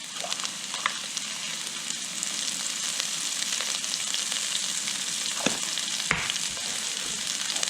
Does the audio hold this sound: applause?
no